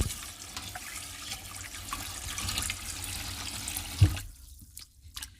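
Water splashing and running in a basin as fish are rinsed clean after soaking in brine, a steady wet wash at close range that breaks off near the end into quieter drips and handling sounds.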